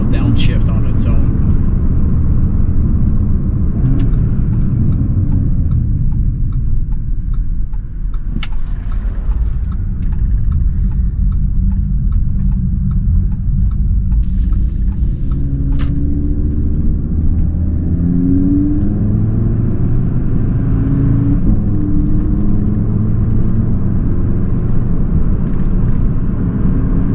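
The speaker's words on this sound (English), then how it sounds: "I love the downshifts." A 2019 Audi RS3 engine hums and rumbles steadily at close range, with its pitch rising and falling as it downshifts on its own, and a voice talks over it.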